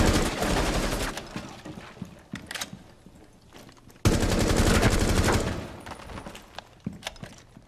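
Rapid automatic gunfire from the video game Rainbow Six Siege comes in two dense bursts, with scattered single shots and clicks in between, loud and close.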